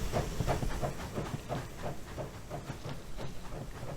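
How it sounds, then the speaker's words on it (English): A steam train passes in the Heat Old West survival video game, with a steady rhythmic chuffing and hiss repeating about every third of a second, loud and close throughout with no talk. "There's a train right on schedule."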